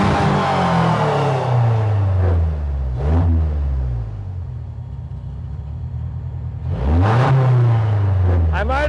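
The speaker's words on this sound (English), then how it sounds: "I might have over-revved it." An engine-swapped project car running a FuelTech ECU revs hard in close, loud bursts, its engine note climbing and falling twice with a rough idle rumbling in between.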